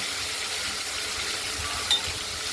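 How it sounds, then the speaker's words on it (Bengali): Prawns rubbed with salt and turmeric frying in hot oil in a wok, a steady close sizzle and crackle with one brief clink partway through. "আমরা মাছগুলোকে ভেজে নেব।"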